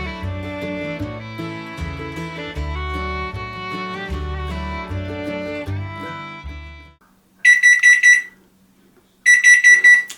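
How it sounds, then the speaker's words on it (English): A kitchen oven timer beeps while gluten-free Aldi brownies bake, two loud bursts of rapid electronic beeping separated by a short pause, heard after a stretch of music has ended. "timer's going off"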